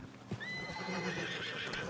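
A horse in the Red Dead Online video game gives a loud, close whinny with a rising then falling pitch, preceded by a brief thump and heard over a steady background.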